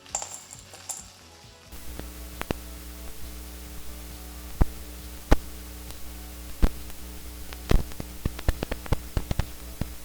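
Sharp, irregular taps come through a homemade charcoal carbon microphone over a constant electrical hum and hiss, some louder than others.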